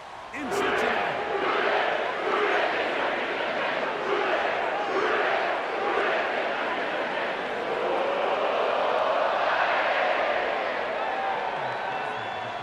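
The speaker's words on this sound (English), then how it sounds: "sellout crowd has arrived at Paycor Stadium in Cincinnati" A sellout stadium crowd roars at Paycor Stadium in Cincinnati within the Madden NFL 25 football video game, a sustained loud cheering wash with whoops, running steadily beneath commentary.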